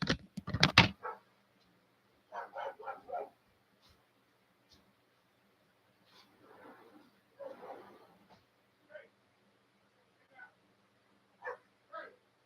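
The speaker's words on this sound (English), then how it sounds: "he decides he's just got to bark at everybody outside" Dogs at home bark in short, scattered bursts, loud at first and then fainter intermittent barks and yips with long quiet gaps, some muffled as if from another room.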